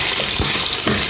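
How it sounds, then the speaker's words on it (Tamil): Onions fry in a pan for mutton gravy with a loud, close, dense sizzle and two soft stirring thuds. "வெங்காயம் எல்லாத்தையும் நல்லா வேகட்டும்."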